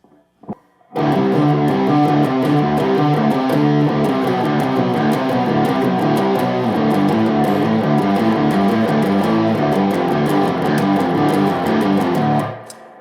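A heavy, distorted electric guitar in drop D tuning chugs through a low, driving power chord riff, loud and continuous, ringing out at the end.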